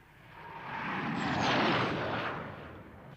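The new Fireflash airliner from Thunderbirds flying past, a rushing jet roar that swells to a peak in the middle and then fades away, heard alone.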